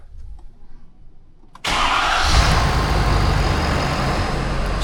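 A truck engine is cranked and starts after a short quiet stretch with faint clicks and a low background rumble, then catches abruptly into a loud, steady idle close by.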